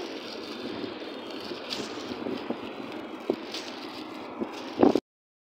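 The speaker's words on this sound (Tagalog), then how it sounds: "Windy." Wind blows across an open walking street, a continuous rough rushing with occasional gusts and light rattles and a brief louder buffet near the end.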